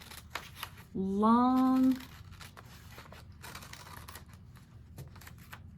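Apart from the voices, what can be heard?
scissors cutting paper strips for beads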